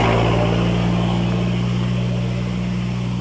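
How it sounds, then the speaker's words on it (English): A massive truck passes on the road with a loud, steady engine drone and deep humming tones, close by and constant throughout, slowly fading slightly toward the end. "maybe we'll wait until this massive truck passes me by."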